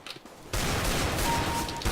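Sustained gunfire in the video game Counter-Strike: Global Offensive, a sudden dense, loud volley that starts after a brief quieter moment and continues without pause to the end.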